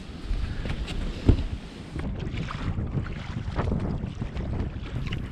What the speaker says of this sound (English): out in this open area, the wind was hitting me right in the face